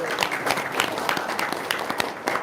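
An audience claps at a Quran study gathering, a steady patter of many hands with sharp individual claps throughout, moderately close and without speech.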